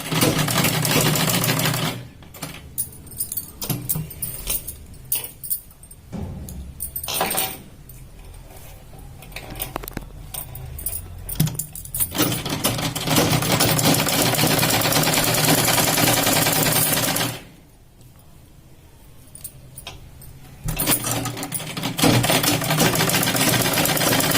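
A sewing machine stitches a katori blouse in several long, fast runs broken by short quiet pauses, a close, loud whirring rattle that stops and restarts repeatedly.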